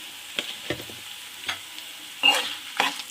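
Onions with turmeric frying for tomato chutney, stirred in the pan: a low, steady sizzle broken by a few scattered scraping stirs, with a louder pair of scrapes near the end, and no voices.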